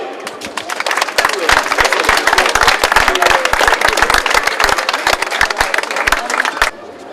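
Audience at a trail race prize ceremony applauding a club runner from Bouliac Sport Plaisir, crisp close claps layered over a broad crowd clatter that holds steady for several seconds and then stops abruptly.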